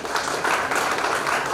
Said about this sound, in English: Let's show our gratitude with a huge round of applause for all our torchbearers.